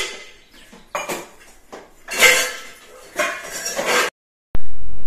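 Metal pots and dishes clatter and clink in bursts as they are piled into a washing basket to be carried outdoors, with short pauses between the clanks and a sharp knock near the end.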